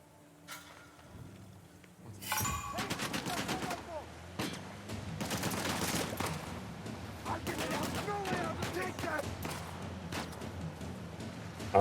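Rapid bursts of gunfire from Nadine in Uncharted: The Lost Legacy, volleys of shots crackling almost continuously after a quiet opening, loud and close with some game ambience between bursts.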